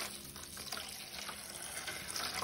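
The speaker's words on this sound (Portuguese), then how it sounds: "E eu vou colocar água filtrada" Filtered water pouring steadily into a basin for soaking Tillandsia (Spanish moss) air plants, a continuous bright splashing and trickling that holds at an even level throughout, close by and with no voices.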